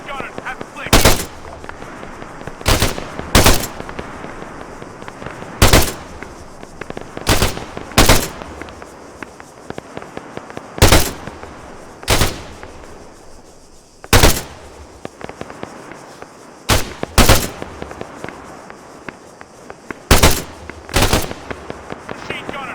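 Machine gun fire in Arma 3 during a mountain battle: loud bursts and single shots spaced irregularly over steady background din, close and punchy, with radio-style voices at times.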